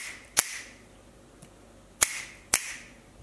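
Sharp hand claps aimed at a homemade ATtiny13 clap switch: one clap, a pause, then a quick double clap, each a crisp close crack in a quiet room.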